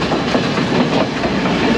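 Scenic passenger train running through Sri Lanka, a steady loud rumble of wheels and carriage noise with faint clickety-clack, continuous and close, with no one speaking.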